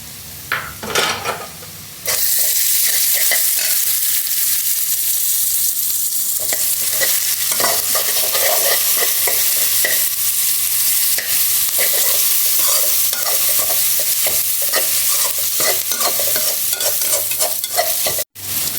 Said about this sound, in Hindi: अब इसमें हम लहसुन का पेस्ट ऐड कर देंगे।